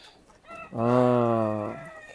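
Free-range village chickens kept in a corner of a farm field give one loud, sustained, tonal call lasting about a second, up close, with quieter background sounds before and after.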